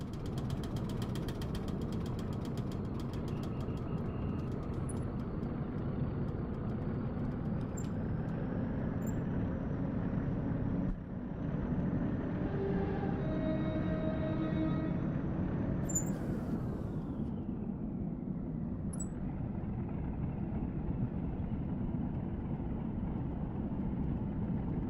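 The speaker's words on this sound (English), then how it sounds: "Something rattling away back in the engine compartment back there. It doesn't sound very healthy." A diesel railcar engine in the Diesel Railcar Simulator game, with a rattle in the engine compartment: a continuous droning engine rumble at moderate level runs steadily throughout, with no speech.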